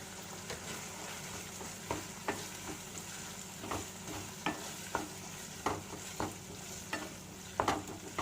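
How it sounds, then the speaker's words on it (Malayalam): A spoon stirring tomato sauce gravy for chicken Manchurian in a pan, with a steady low sizzle and repeated scraping strokes at irregular intervals, close and moderately loud. "ഇനി ഇത് നന്നായിട്ടൊന്ന് മിക്സ് ചെയ്തെടുക്കാം"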